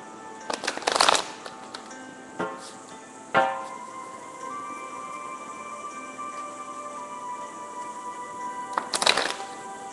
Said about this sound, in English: so let's go ahead and shuffle the cards